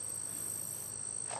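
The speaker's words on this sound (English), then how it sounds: "Sounds like a mixture of crickets and cicadas." Crickets and cicadas chirping outdoors in Michigan: a faint, steady high-pitched buzzing drone filling the short stretch, with low background noise and no voices.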